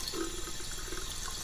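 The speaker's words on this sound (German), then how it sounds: "In Paris kommt das Wasser eiskalt aus dem Hahn." Water running steadily from a tap in a Paris hotel bathroom within the point-and-click game Der Fall John Yesterday, a constant close hiss with faint splashing into a basin.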